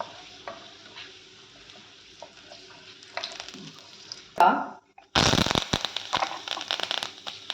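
Finely broken urad and chana dal frying in sweet oil for lemon rice, quiet sizzling and stirring at first, then a sudden loud burst of crackling sizzle that carries on, with a voice speaking over it.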